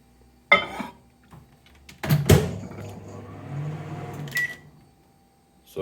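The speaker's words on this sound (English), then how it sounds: "And then we put it in the microwave." A microwave oven heating a cup of coffee with milk: a door clunk and button press, then a steady low hum of the running oven with a brief beep near the end, close by.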